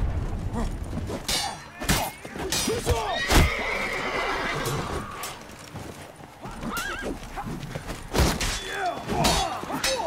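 Horse sounds from The Witcher 3: Blood and Wine, with neighs and clip-clopping hooves amid combat clangs and thuds in a busy, loud mix.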